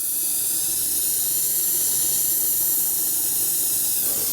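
Steady, broad roaring hiss of a torch flame heating a 1972 Harley-Davidson Ironhead Sportster engine case to burn off solvent residue, loud and continuous throughout with no talking.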